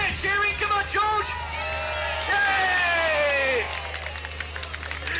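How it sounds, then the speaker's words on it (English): Crowd cheering at a classic and sports car club show race with 300 SL cars, excited whoops and shouts rising and falling over a steady low engine hum, with voices calling out close by. "Bit of cheering"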